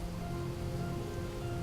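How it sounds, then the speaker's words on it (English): Steady rain hiss falling in the World of Warcraft game world, a dense continuous wash with a constant low ambient hum and tonal drone beneath, no talking. "It's raining."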